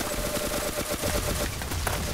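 Rapid gunfire in the first-person shooter Ace of Spades, a dense burst of shots rattling continuously and loudly for a couple of seconds with no talk over it.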